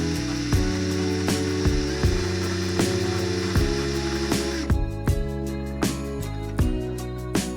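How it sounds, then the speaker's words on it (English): An electric drill braiding wire for a cross pendant whirs steadily at close range, its hum interrupted by regular clicking pulses roughly every half second. "And then you just turn on the drill and it'll braid it for you."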